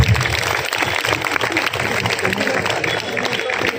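Audience clapping at a large Hindu gathering, a dense steady patter of many hands at moderate distance, filling the whole stretch without pause.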